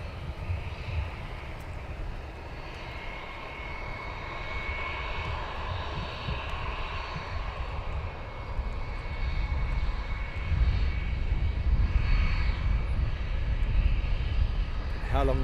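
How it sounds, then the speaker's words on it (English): A Wizz Air airliner readying for departure at Luton Airport gives a sustained, rising engine roar and low rumble that grows louder toward the end, with someone talking faintly over it. "And then we have another Wizzair getting ready for departure."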